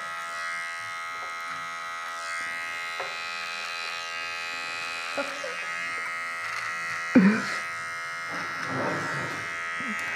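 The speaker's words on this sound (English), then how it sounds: "let's go clipper over comb. Start taking out this line now." Electric hair clippers run with a steady close buzz through a barbershop low-fade haircut, cutting hair clipper-over-comb, with small clicks and handling noises and a louder knock near the middle.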